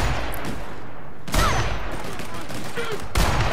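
Gunfire in The Outer Worlds comes as sharp, loud bursts, one near the start and heavier blasts at about a third of the way in and again near the end, with a voice talking around them.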